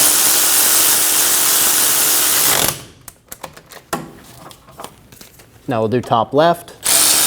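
A ratchet snugs the wheel bearing bolts on a Volkswagen Passat hub, close up: a wash of noise first, then a run of quick clicking strokes, with someone speaking briefly near the end.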